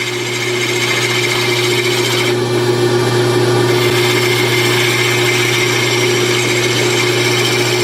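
Wood lathe spinning a wooden chess pawn while a round carbide tool cuts it, a steady loud motor hum with a constant low drone and light scraping texture, continuous and close throughout.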